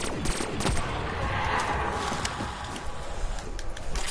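Rapid bursts of M8 rifle fire in a zombies video game crackle continuously through the clip, loud and dense, overlapping with game noise and no talk.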